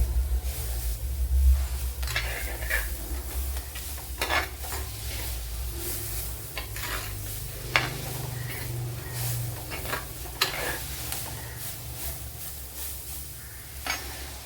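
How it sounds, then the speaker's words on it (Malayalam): Finely grated coconut roasting in a pan for a Kerala squid curry, a soft continuous sizzle with frequent scraping stirs of a spoon, close and moderately quiet, with no voices. "ഇപ്പോഴിവിടെ തേങ്ങയൊക്കെ നല്ലതുപോലെ മൂത്ത് വന്നിട്ടുണ്ട്"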